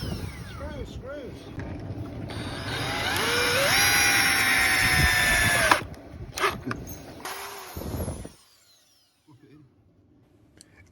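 A power drill drives screws into the wood of a homemade bird feeder table. The motor whirs and rises in pitch through several bursts, then cuts out into near silence, with voices in the background.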